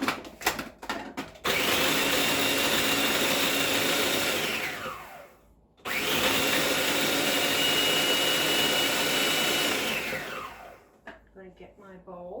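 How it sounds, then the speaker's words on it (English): Electric spice grinder whirring through Italian seasoning for spaghetti sauce, two long loud bursts of steady motor roar, each winding down, with a few clicks before and after. "I'm going to grind this up."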